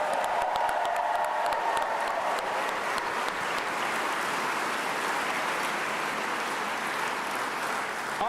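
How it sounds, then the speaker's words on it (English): Sustained applause from a large audience at a NASA Artemis II astronaut announcement event, a dense steady patter of clapping that fills the room from start to finish with no voices on top. "Let's give them another round of applause."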